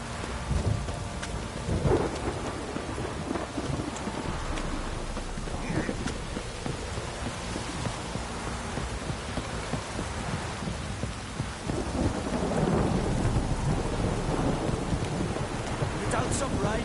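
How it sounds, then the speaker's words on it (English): Rain and a thunderstorm in the video game The Witcher: steady heavy rainfall with low rumbling thunder rolling underneath throughout, alongside faint clopping of hooves. "Don't stop raining, my arse will rot"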